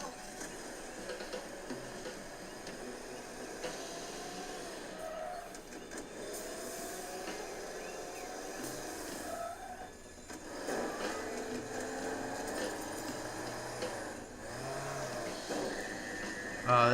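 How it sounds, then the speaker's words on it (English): An ASUS ROG Flow X16 gaming laptop gives off thin, wavering electrical coil whine while running a car game silently, faint and steady with shifting tones and soft mechanical clicks. "we're getting some sort of coil whine right now"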